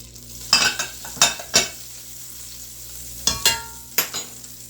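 Butter and avocado oil heat in a pan, a low sizzle broken by several sharp metallic clinks and scrapes of a utensil, in two separate bursts, with no talking.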